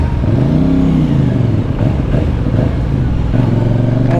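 Rumbling engine of a CF Moto 450 CL-C motorcycle, with a rise and fall in pitch at the start like a throttle blip, then a steady, gruff running note close by.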